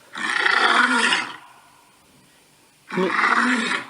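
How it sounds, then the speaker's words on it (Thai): A recorded lion roar plays from an iPhone through Siri: two loud, rough, sustained roars separated by a quiet pause of about a second and a half. "เสียงของสิงโต"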